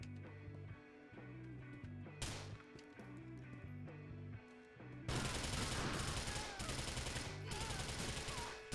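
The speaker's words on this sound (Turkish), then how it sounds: "Abi Uzi çok iyi bu oyunda ya." Uzi fire in GTA IV: The Lost and Damned crackles in rapid bursts over steady game music, turning into loud, dense sustained shooting in the second half.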